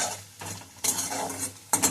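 Onions frying for Maggi noodles, stirred in a pan with a soft sizzle underneath and two bursts of scraping spoon strokes, close by.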